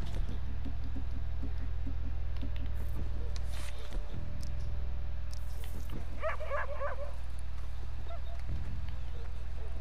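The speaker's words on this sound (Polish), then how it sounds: "Pies tam szczeka." Dog barking in Red Dead Redemption 2, a short burst of yelping barks partway through over a steady low game-soundscape hum, with faint background voices.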